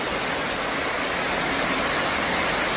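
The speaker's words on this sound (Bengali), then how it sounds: "হিউজ পরিমাণ বৃষ্টি হচ্ছে" Heavy rain driven by strong wind pours down outside a veranda, a dense, steady broadband hiss with no breaks and no voices, close and loud throughout.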